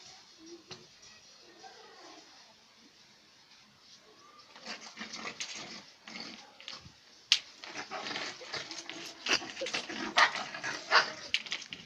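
A dog barks and yelps in short bursts among rustling and commotion outdoors, growing louder and busier toward the end, with brief voices mixed in.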